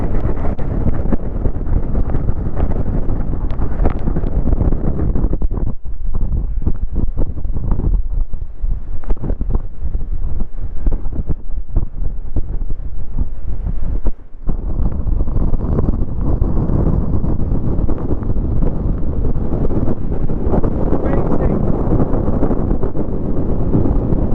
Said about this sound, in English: Oh boy, the wind's crazy, crazy.